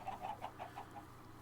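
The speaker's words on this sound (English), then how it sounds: "Got my chickens." Minecraft chickens clucking, a quick series of about six soft, evenly spaced clucks, faint and close, with no talking.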